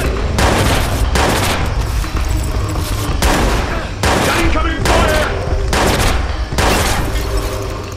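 Gunfire in the Watch Dogs video game during a prison escape: loud, dense bursts of shots repeating in rapid volleys across the whole stretch, with intermittent shouted game dialogue over the shooting.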